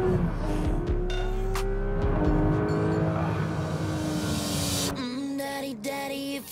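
A Porsche 911 ST sports car drives hard, its engine note loud and close with rising and falling pitch through gear changes, plus a brief tire squeal and no talk.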